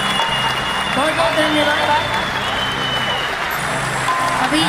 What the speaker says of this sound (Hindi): एक जोरदार ताली बजा के अपना के आशीर्वाद दे दी अपना बेटी बहन पे